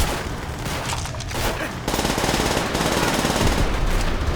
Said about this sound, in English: I start a garbage fire before flanking and mag dumping an entire squad of Germans.